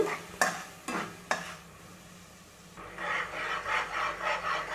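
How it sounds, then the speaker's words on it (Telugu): A pan of jaggery melting in a quarter cup of water for peanut burfi: three sharp knocks, a quiet pause, then soft rhythmic stirring strokes scraping through the syrup. "ఇలా తిప్పుకుంటూ ఉంటే బెల్లం కరిగిపోతుందండి"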